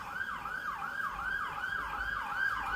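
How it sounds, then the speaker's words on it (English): Ambulance siren passing outside a kitchen, a faint wailing tone rising and falling in a steady repeating cycle with low traffic rumble beneath. "I think that's an ambulance."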